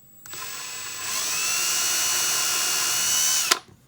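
A small power drill with a small bit whirs up to high speed, drilling a hole in an RC crawler skid plate, runs steadily for about three seconds, then stops with a click, close and loud.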